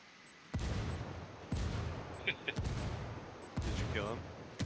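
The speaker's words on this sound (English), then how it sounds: "I'm mortaring behind me" Heavy mortar blasts from the video game Ghost Recon Wildlands thump in a series of four booming impacts, loud and close, with faint game sounds between them.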